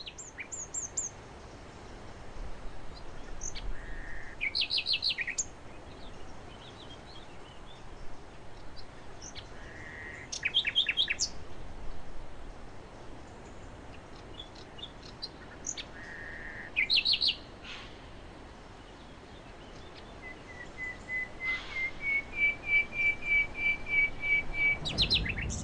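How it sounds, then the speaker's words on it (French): Nightingale pouring out its mating song from a wetland reed bed, clear bursts of varied whistles and trills at intervals, ending in a rising run of repeated notes, with a quiet outdoor backdrop and no other voices. "le rossignol qui lance son chant nuptial"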